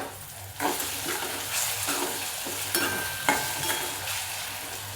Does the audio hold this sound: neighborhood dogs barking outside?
no